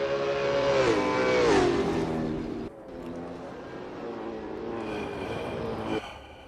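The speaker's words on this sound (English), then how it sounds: "Dan's given us some burnouts" A Super 2 race car doing burnouts at Albert Park, its engine revving loud and close with pitch swinging up and down, then settling into a steady high roar before a sharp cut.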